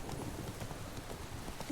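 Hooves of Roach, the horse in The Witcher 3, clip-clopping at a steady trotting rhythm, fairly quiet and even, with no other sounds alongside.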